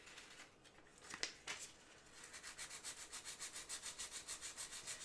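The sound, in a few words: hand sanding Bondo filler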